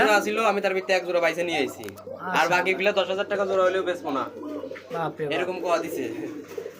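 Pigeons, including large cream-coloured racing birds at a market, coo softly in the background while someone talks loudly and continuously over them.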